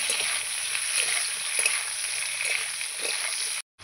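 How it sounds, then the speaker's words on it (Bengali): Raw banana and potato pieces fry in a wok with a steady, close hiss of bubbling oil that holds even throughout, then cuts off abruptly at the very end. "এই যে আমি এখানে কাঁচকলা আলু ভালো করে ভেজে নিয়েছি"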